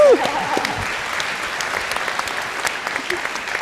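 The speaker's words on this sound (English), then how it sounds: "let's give another round of applause for our guests" Audience applause for guests at a university fall kick-off event, a sustained, fairly loud crowd clapping with a brief voice at the very start and faint murmurs underneath.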